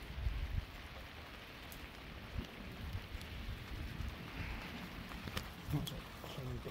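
Light rain falling outside, a soft steady patter with scattered drip taps, with a person talking over it.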